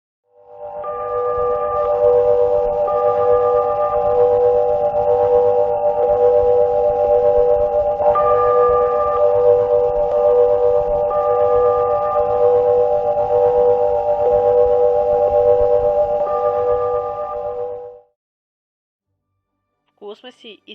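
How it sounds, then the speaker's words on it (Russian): Earth's electromagnetic waves, converted into sound, form a steady humming drone of layered tones with a faint crackling texture. The drone sustains for about seventeen seconds, then stops abruptly, and a brief voice follows after a pause. "Это звук Земли."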